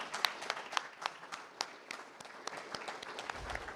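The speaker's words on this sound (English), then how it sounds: "let's have another round of applause." An audience at a literary reading breaks into applause, a soft, somewhat distant patter of clapping with a few sharper individual claps standing out, steady throughout with no speech.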